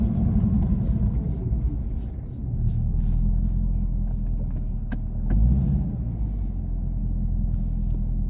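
Deep, steady rumble of a 2021 Chevrolet Camaro ZL1 engine, loud and close, with a brief swell midway and a few faint crackles over the drone.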